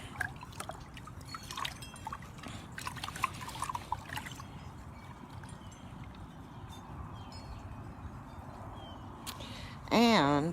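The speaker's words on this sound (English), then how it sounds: "I am stirring the pot." Liquid swirls and sloshes in a pot as it is stirred into a vortex, a soft continuous churning with a few clinks, while someone talks over it and a brief whistling tone rises at the end.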